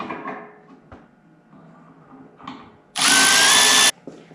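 A power tool torques down bolts on a Can-Am Defender half door during assembly: one loud, steady whir of about a second that stands out sharply after quieter handling noises and light clunks.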